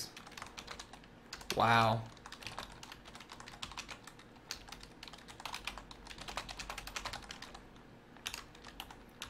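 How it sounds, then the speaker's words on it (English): Rapid clicking of keys on a computer keyboard during an online typing test, a dense uneven patter of close taps that runs throughout, with a brief spoken exclamation near the start. "I'm just, like, typing like I was on the other one where you don't have to hit space."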